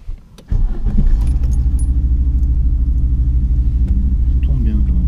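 An Audi Coupe engine catches after a brief pause and settles into a loud, steady, close idle rumble with a slight jangle, continuing without interruption.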